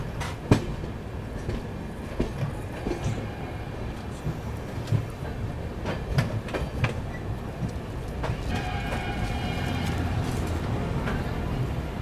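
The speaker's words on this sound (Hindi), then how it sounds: "अपनी पंजाब मेल अराइव कर रही है मथुरा जंक्शन पे" Punjab Mail passenger train pulling into Mathura Junction station, a rolling rumble with rhythmic wheel clatter over rail joints and occasional squeals, steady and fairly close throughout.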